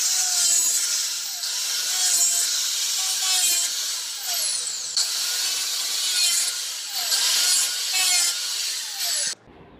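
A hand saw cuts a hole in 4-inch PVC drain pipe, with loud, close, rhythmic back-and-forth rasping strokes in steady repetition that stop abruptly at the end, no talking.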